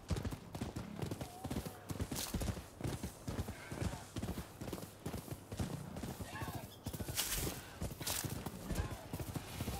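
Rapid clip-clop of horse hooves at a steady gallop in the video game Rise of the Ronin, with occasional whinnies and voices talking over the game sounds.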